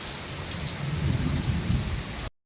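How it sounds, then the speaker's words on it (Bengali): A Kalbaishakhi nor'wester thunderstorm in Jhargram brings heavy rain pouring steadily over a deep rumbling background, loud and continuous, until it cuts off abruptly near the end. "ফাইনালি আমরা কালবৈশাখী দেখতে পেয়েছি ঝাড়গ্রাম এসে"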